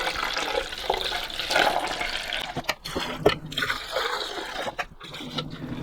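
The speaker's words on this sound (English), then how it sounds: "I'm going to rinse this out now with some warm water." Warm tap water splashes and gurgles into a Bosch Tassimo coffee machine's water tank, swishing and sloshing with brief pauses, close and moderately loud.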